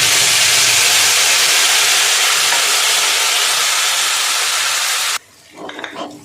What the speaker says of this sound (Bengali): এবার আমি বেটে রাখা মশলাটা দিয়ে দেবো।